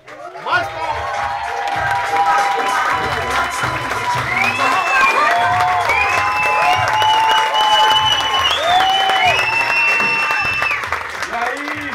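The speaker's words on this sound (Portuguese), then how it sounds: "Então, para a abertura do show, recebam ele com muitos aplausos, de Lopes." A crowd at a comedy club in Brazil applauds and cheers as the comedian walks on to open the show, steady dense clapping holding loud for the whole stretch with a few shouts and a voice talking over it.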